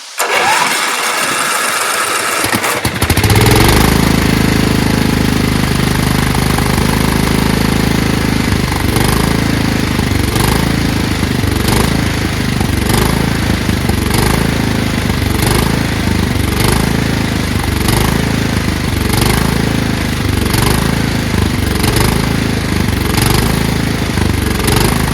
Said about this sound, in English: So it's going to crank a while, I'm sure.